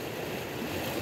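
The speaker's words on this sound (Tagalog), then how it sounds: "Pag may dumadaan na boat, ayan, ang lakas ng hampas ng tubig." Water churned up by a passing boat slaps and washes against something close by, a continuous rough surging wash with wind rushing over it.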